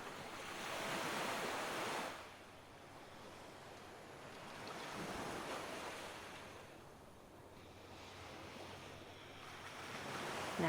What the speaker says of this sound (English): Just listen to nothing but those ocean waves in the background